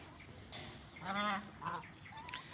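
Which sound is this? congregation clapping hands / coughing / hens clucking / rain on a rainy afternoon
hens clucking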